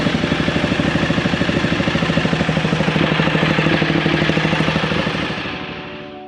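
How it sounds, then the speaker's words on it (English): A Ducati Multistrada motorcycle engine running steadily, with a loud, even, rapid pulsing throb close by that fades slightly toward the end, with no voices. "let's fire this up, get it up to temperature."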